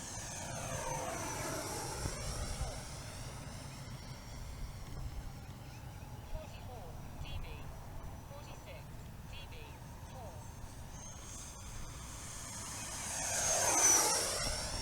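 A Flyfans 64mm L-39 RC jet with a 6S electric ducted fan passes overhead, its whine rising and falling in Doppler sweeps at the start and end of a low steady drone, with someone talking throughout.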